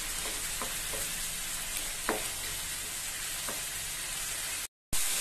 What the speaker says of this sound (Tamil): தக்காளி நல்லா கொழம்பா வெந்து வர வரைக்கும் வேகட்டும்.